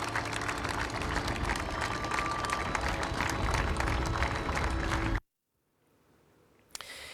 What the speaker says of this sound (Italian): l'ultimo applauso al cavaliere